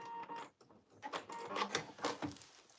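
Sewing machine back stitching at a notch on a cargo pants seam, a few quick stop-start stitching bursts with small clicks between them; faint and close, no talk.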